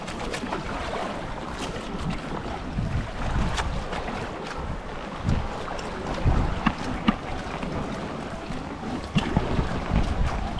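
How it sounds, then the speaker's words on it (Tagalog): Strong wind buffets the microphone over rushing, crashing waves, a constant loud roar with gusty bursts throughout. "At makikita nyo ay malaki ang alon, malakas, mahangin."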